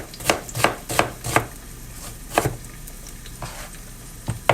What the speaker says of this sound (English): rough chop these onions real quick